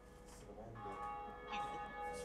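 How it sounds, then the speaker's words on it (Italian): A bell of awakening rings in the Dark Souls video game, a faint metallic bell tone with lingering resonance heard quietly in the distance, mixed with soft background game sound. "Finalmente ho suonato la prima campana del risveglio."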